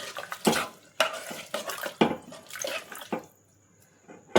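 A spoon stirs Kathiyawadi vaghareli khichdi with masala in a pot, sharp scraping strokes repeating about every half second, close and distinct, then trailing off into quiet.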